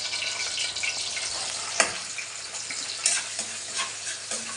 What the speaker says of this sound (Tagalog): Nagigisa ako eh.